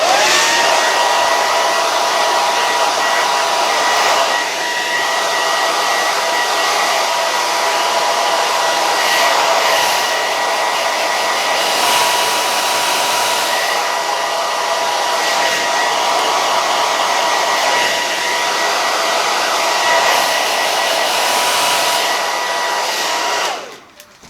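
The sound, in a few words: hair dryer blowing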